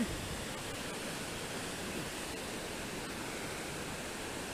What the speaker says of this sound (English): That's a beautiful river.